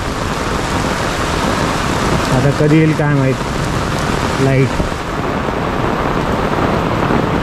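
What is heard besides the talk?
heavy rain in a storm in Mumbai Thane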